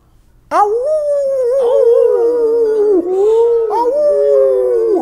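Several voices howl together in long, wavering, sustained tones that rise and fall, loud and close, imitating animal howls.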